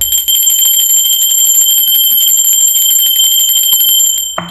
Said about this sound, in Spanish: así que va campana